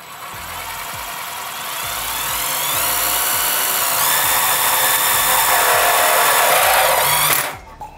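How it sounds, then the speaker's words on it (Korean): An impact driver fitted with a step drill bit bores into a metal computer case, its loud whirring motor rising in pitch and strain as it cuts through, then stopping abruptly. "임팩트 드라이버 앞에 스텝 드릴 비트를 껴왔어요"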